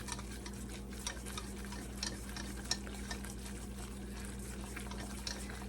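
Flour being stirred into a sauce until smooth, a steady scraping stir over a constant low hum and light sizzling, with no talk.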